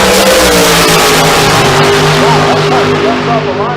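A Miller dragster launches at Famoso drag strip during bracket racing, a loud, continuous engine roar with rising whining tones, close and dominant, while a voice talks faintly over it.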